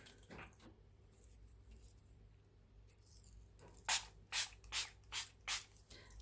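Five short, sharp hissing spritzes of red paint from a spray bottle onto a gel plate come in quick succession after some quiet rubbing and handling noises, close and distinct.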